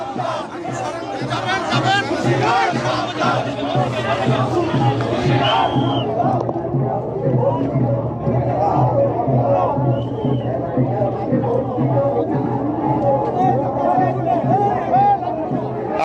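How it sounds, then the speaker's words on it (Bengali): Former army officers on a protest march chant slogans together, a dense continuous crowd of raised voices close by, rhythmic shouting with overlapping chatter throughout. "আমরা আপনাদেরকে দেখাচ্ছি এই মুহূর্তে যে বিভিন্ন স্লোগান দিচ্ছেন তারা।"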